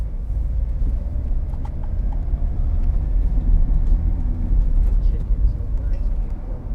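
A 2014 Vauxhall Vivaro 2.0 CDTi Sportive van drives along with a steady low engine and road rumble from inside the cab, swelling slightly toward the end, with light rattles and clicks on top.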